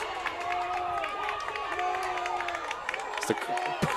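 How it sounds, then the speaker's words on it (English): Fans of both teams in the stands at a men's college soccer match, Rowan against Stockton, roar and shout in a dense, continuous crowd din, with whistles and individual yells rising over it. "Both sides of the crowd are getting into it"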